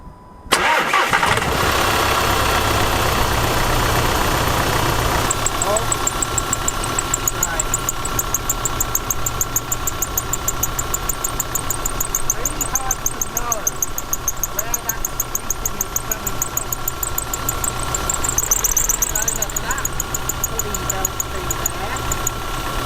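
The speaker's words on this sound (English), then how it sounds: "Polly, can you start the engine? Make sure it's not in gear" A VW Crafter van's engine cranks and fires, then runs at a steady, close idle for about twenty seconds, with a faint high squeak or whine riding over it during an alternator job.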